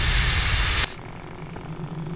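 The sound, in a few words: spray being used in a horror video game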